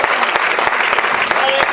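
A church congregation claps loudly and steadily in response to an evangelist's call, a dense continuous burst of applause filling the room with no break.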